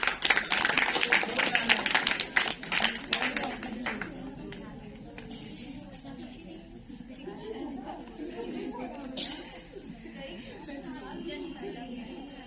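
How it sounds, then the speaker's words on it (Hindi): Audience clapping at a school girls' education program, a burst of scattered applause from students at the start that quickly dies away into murmuring chatter and distant voices. "इनके लिए जोरदार तालियां।"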